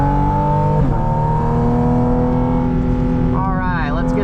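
A Porsche GT4 RS on a race track, its high-revving flat-six climbing toward a 9,000 RPM redline, loud and close with steady harmonic engine tones, a brief shift dip, then rising revs near the end.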